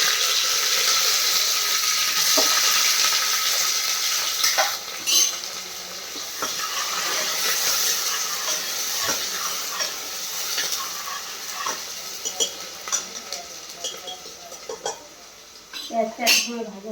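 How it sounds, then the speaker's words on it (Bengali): Onions frying in oil in a pan alongside bay leaves for a meat curry, a loud continuous sizzle with stirring scrapes and clinks of utensils on the pan throughout. "পেঁয়াজটা একসময় ভাজা ভাজা হোক,"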